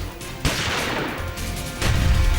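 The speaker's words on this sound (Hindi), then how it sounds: "इसके बाद अंदर से पहली बार फायरिंग और हथगोले की आवाज सुनाई देती है।" Gunfire and grenade blasts in a reconstruction of the Pathankot air base terror attack, dense and loud, a sharp onset followed by continuous rattling fire and a heavier surge of explosions toward the end.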